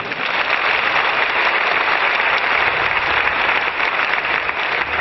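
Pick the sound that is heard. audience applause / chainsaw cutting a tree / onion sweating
audience applause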